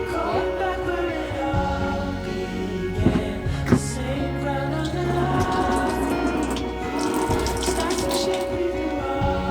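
Tap water runs steadily in a makeshift temporary setup at a house being built in Sweden, a continuous splashing wash under a generator-like hum, with a couple of brief knocks midway and no talking.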